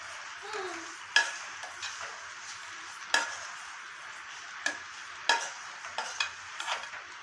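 Pidi karunai stir-fry with chili powder being turned in a pan, giving soft scraping stirs and a few sharp clicks of a utensil against the pan over a faint sizzle.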